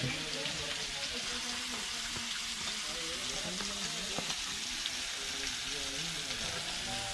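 Bangda (mackerel) fish frying in a pan with salt and masala, a steady broadband sizzle running throughout with occasional crackles, while a person talks over it.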